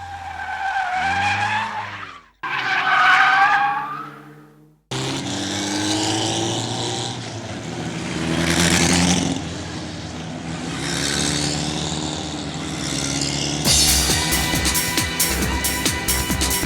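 A race car at a racing school slides and spins out, loud continuous tire skid and engine roar with squealing swells, a brief gap near two seconds, then sustained sliding noise and a harsher burst at the end.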